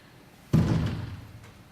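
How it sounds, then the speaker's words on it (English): A classroom door swings shut with a single heavy thud against faint room tone. The thud rings briefly and is followed by a small, quieter knock. "And close the door."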